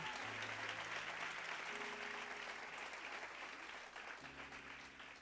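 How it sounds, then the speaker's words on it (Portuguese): A church congregation applauds strongly and steadily for several seconds, a dense, full wash of many hands, with sustained keyboard tones sounding underneath and fading slightly at the end. "dá uma salva de palmas bem forte a Jesus"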